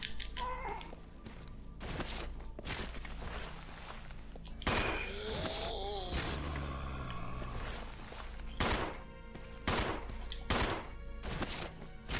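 Gunfire in the video game Resident Evil 0 rings out as repeated sharp shots at irregular intervals over game ambience, with creature cries in between.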